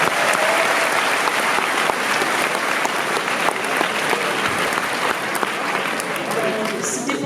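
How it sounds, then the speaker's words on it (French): Audience applause fills a convention hall at a manga fan event, a dense, steady wash of clapping from a large crowd that holds loud and even throughout. "On l'applaudit s'il vous plaît."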